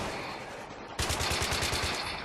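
SCAR assault rifle firing in Battlefield 3 multiplayer: a rapid, evenly spaced burst of close, loud shots begins about a second in after a stretch of dull background din, then continues steadily to the end.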